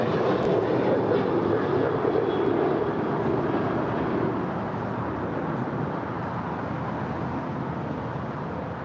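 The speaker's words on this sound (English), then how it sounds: "That is WestJet Flight 1422 coming in from Edmonton. It's a 737-700." WestJet Boeing 737-700 arriving at LAX, a moderate jet rumble that is strongest at the start and slowly recedes, with no one talking.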